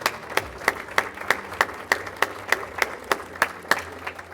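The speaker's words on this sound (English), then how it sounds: "and indeed, applause." Audience applause at a Canada-Africa Chamber of Business breakfast greets Ghana's Minister of Lands and Natural Resources: even, rhythmic claps, about thirteen beats in four seconds, clear and fairly close with no talk.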